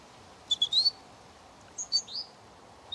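A human bird imitator whistles bird calls: a quick cluster of bright chirps, a pause, then another run of sliding tweets and a final short call, clear and close against a quiet background.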